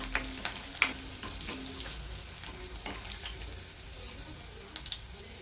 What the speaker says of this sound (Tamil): ஸ்லோ ஃப்ளேம்லேயே வச்சு வறுத்துக்கோங்க இது ஒரு ரெண்டு நிமிஷத்தில் கலர் சேஞ்ச் ஆகி இந்த பூண்டு நல்லா வறுபட்டுடும்